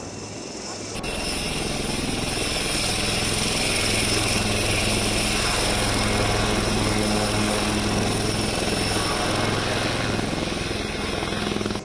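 An HAL Light Combat Helicopter flies at an induction ceremony, its rotor and engine giving a loud, steady, continuous roar with a high turbine whine, close and dominating throughout.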